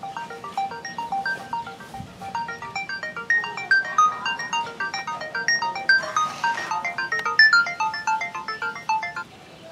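A melodic phone ringtone plays steadily for about ten seconds, its bright repeating electronic notes continuous and fairly loud, heard alone before a call is answered, with low background noise underneath.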